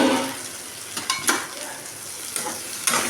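Onions sautéing in oil in a pan while making ground-masala mushroom curry, a steady close sizzle with a few louder stirring scrapes and clinks, no talking.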